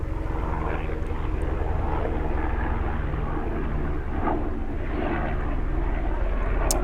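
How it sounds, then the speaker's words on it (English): A helicopter flying overhead makes a loud, steady engine and rotor drone with a low rumbling hum that fills the whole stretch and shifts only slightly in intensity. "That's the helicopter, my dude."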